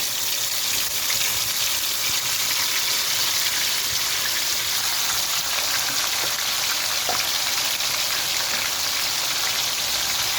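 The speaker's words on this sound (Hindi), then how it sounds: "अब हम इसके अंदर ये मैरिनेट हुई हुई चिकन को फ्राई करेंगे" Marinated chicken frying in hot oil for a Kashmiri chicken curry, a loud, steady hiss and crackle of sizzling that continues without a break, close and alone.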